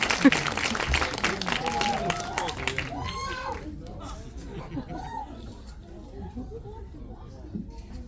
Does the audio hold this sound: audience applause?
yes